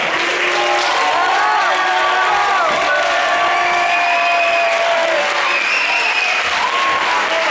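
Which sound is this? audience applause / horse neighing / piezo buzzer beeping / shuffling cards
audience applause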